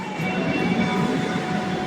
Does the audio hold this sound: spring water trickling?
no